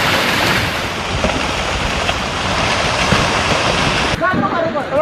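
A flooded, raging river rushes in a steady, loud, broadband roar during monsoon floods in India, continuous and close throughout, with voices faintly audible near the end.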